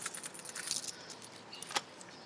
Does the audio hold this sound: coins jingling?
yes